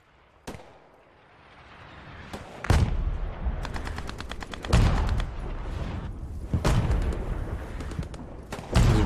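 Artillery and gunfire in the WWII video game Post Scriptum: heavy booming impacts land close by, mixed with several bursts of rapid machine-gun fire, loud with short gaps between blasts.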